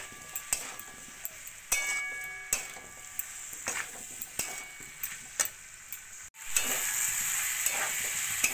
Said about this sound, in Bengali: টমেটোটাকে ভালো করে সবজির সঙ্গে মিশিয়ে নেব।